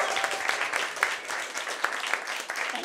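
Steady audience applause greets comedian Hayman Cairns at a live comedy show, a dense, even patter of many hands clapping throughout.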